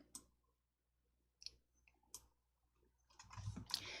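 Computer mouse clicks on an OK button in a spreadsheet program, a few sharp, faint, isolated clicks in a quiet room.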